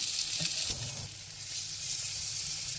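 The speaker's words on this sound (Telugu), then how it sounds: "ఇప్పుడు వీటిని కొంచెం ఫ్రై అవనిద్దాం." Slices of eggplant (baingan) frying in a pan give a steady, close sizzle that holds through the whole stretch, with a few soft low bumps near the start and no voices.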